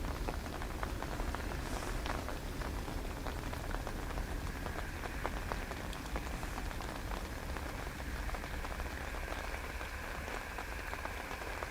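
Steady, heavy rain hisses across Dublin Airport on a wet Monday, a dense unbroken wash of drops spattering surfaces with no voices over it.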